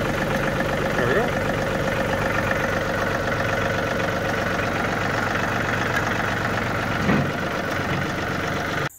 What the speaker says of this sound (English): This little guy is powered by a Yanmar diesel.